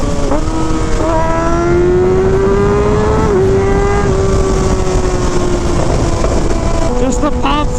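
A street motorcycle engine revs loud and close, its throaty tone climbing and easing in pitch, with a few sharp crackles near the end.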